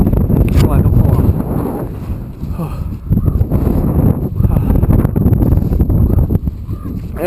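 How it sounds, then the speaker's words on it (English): Strong gusts buffet the microphone on an exposed hilltop during a bike ride to a fire tower, loud rumbling wind noise throughout, with someone speaking briefly over it. "Oh, and a little windy."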